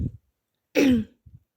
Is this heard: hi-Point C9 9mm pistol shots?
no